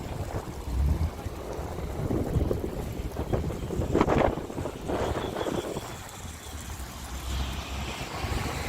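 Strong wind in Kokshetau buffets and roars in gusts, rising to a loud surge midway before easing, with rumbling bursts hitting the microphone.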